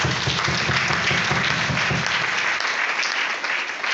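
An audience at a school-year closing ceremony in Lualaba claps in a dense, loud burst of applause that holds steady for about three seconds before thinning out.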